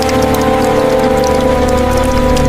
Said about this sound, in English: A sudden, violent rainstorm pours down, soaking the massive grass apartment.